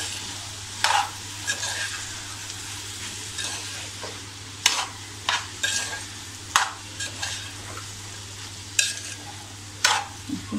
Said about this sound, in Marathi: पुन्हा आपण असं मीठ छान असं ढवळून घेऊया.